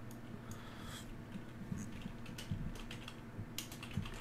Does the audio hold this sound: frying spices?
no